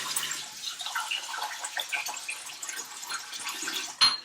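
Rice rinsed in water, a continuous wet swishing and trickling close by with a brief louder splash near the end; no talking.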